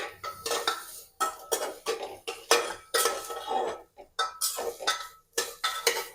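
Green vegetables and spiced tofu are stirred in a metal kadhai, with a spatula scraping and clanking against the wok in quick, uneven strokes, close and fairly loud.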